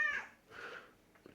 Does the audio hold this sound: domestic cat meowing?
yes